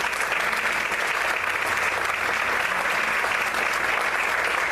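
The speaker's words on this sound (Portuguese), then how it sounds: "Você pode aplaudir o Senhor." Sustained applause from a church congregation during a sermon, a dense, steady wash of many clapping hands at even loudness throughout, with no pause.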